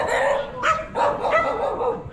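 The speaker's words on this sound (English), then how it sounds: "She found a swarm of dogs and she's willing to go into the darkness to find them." Several dogs bark in short bursts in a dark alley, outdoors at night, moderately close with a faint background murmur.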